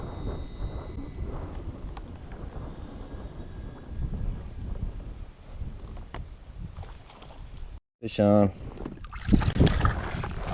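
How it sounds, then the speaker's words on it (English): Steady, gusty wind buffets the microphone in a low rumble on a kayak fishing trip in Arkansas, with water sloshing nearby and someone speaking briefly near the end. "This wind is atrocious."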